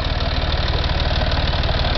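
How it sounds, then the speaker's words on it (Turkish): An engine runs close by at a steady, loud idle, its low rhythmic chugging continuous and unbroken throughout. "Kes şu motorun sesini çabuk. Motorun sesini kes."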